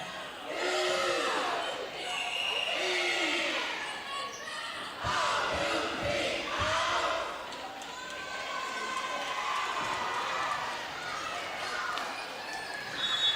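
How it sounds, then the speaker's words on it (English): Varsity volleyball teams cheer their teammates on from the sidelines of a high school gym, a loud, sustained mix of shouting voices and crowd noise with bursts of louder yelling and sharp thuds of play. "Two varsity teams are waiting to come out onto the floor, cheering their teammates on."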